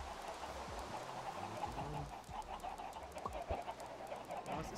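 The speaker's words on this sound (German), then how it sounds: "Es sind einfach viel zu viele Hühner." A crowd of chickens in the video game Minecraft cluck on and off, soft and clustered together without any talking.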